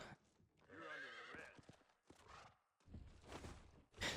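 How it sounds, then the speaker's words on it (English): A horse in the Red Dead video game whinnies loudly with a wavering neigh, followed by snorts and the clip-clop of hooves shuffling nearby. "You can hear my horse kind of getting bored."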